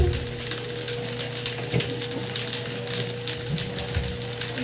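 Bath crackles fizzing in bath water, a continuous close crackling and popping hiss over the running of the tub, steady throughout with no voices.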